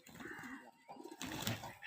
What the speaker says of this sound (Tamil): இந்த புறா நம்ம தான் நண்பர்களே